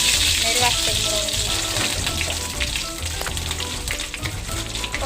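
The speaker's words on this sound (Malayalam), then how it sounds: "കുറച്ച് വെളിച്ചെണ്ണയിൽ കുറച്ച് കടുക് ഇട്ട് കൊടുത്തിക്കണം" Mustard seeds fry in coconut oil for sambar, with curry leaves and dried red chilli, giving a loud continuous sizzle with popping crackles up close while a person talks over it.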